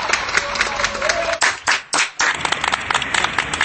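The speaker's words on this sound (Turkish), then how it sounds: "Dört bir yandan sağlık çalışanları için alkış sesleri yükseldi." Dense clapping for healthcare workers in Turkish cities during the Covid-19 pandemic, many hands at once, with a few brief dips and pauses midway before the steady applause resumes.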